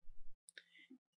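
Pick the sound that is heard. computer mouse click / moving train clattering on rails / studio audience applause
computer mouse click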